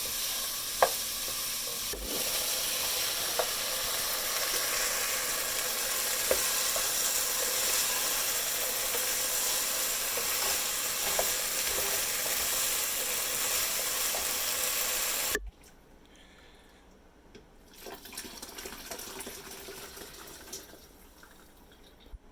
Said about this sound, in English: Now I'll add the potatoes for a moment.